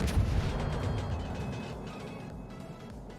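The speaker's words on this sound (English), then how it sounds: "It's a good-looking salvo." A Tier V Italian battleship, the Conte di Cavour, fires a booming main gun salvo in World of Warships, a heavy roar that rolls out into a long low rumble and slowly fades.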